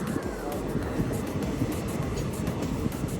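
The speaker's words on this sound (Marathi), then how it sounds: "ट्रेन अशी मस्त कर्व घेते बघा" Steady rumble and rattle of a train rounding a curve near Nashik Road station, continuous and fairly loud, with faint metallic squeal over the low drone.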